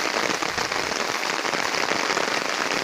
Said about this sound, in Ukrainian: дощ, дуже сильний